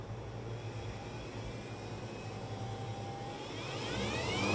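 A 3D-printed axial flux 40 W BLDC motor with a sensored controller runs with a steady whine whose tones rise slowly as it speeds up near the end, over a constant low hum.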